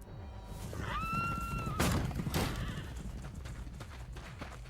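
A horse whinnies once with a rising, tonal cry over a busy, rumbling background of hooves and movement.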